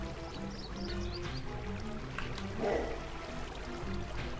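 Water pours and drains away in Craftopia, a faint continuous rushing and gurgling flow that swells briefly near the middle.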